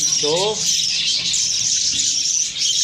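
Budgerigar chicks and adult budgies chirp inside a cage, a dense continuous high twittering close to the listener with a brief warbling call near the start.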